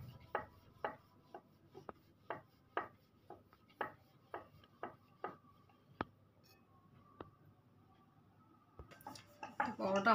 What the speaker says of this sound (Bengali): ভালো করে দু হাত দিয়ে দুদিকে করে নেবো, ময়দাটা দিয়ে নেবো, দিয়ে কিন্তু হালকাভাবে আমি বেলতে থাকবো